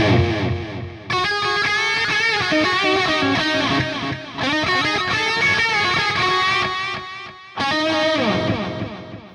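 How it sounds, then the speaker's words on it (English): Distorted electric guitar phrases through the Audio Assault Hellbeast amp simulator ring out with a delay effect, each note repeating in fading echoes that overlap the next, with brief pauses between phrases. "And the delay sounds like this."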